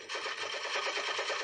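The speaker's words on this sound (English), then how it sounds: "They've opened fire on us." Rapid gunfire sound effect from a battle scene, a dense continuous rattle of overlapping shots, loud and close, with no voices over it.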